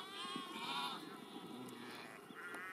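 Merino sheep bleat on a farm in a series of wavering, overlapping cries, heard fairly faintly.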